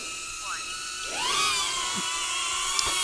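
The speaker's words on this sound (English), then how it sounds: "First with the Neo." A DJI Neo drone flies nearby, its propellers giving a steady high-pitched whine that rises in pitch as it takes off and holds, with a faint voice in the background.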